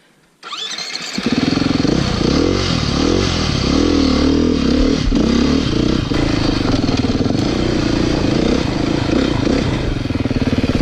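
A 2018 Beta dirt bike starts up and runs off-road, its engine loud and close, buzzing continuously with rising and falling revs as it rides over terrain.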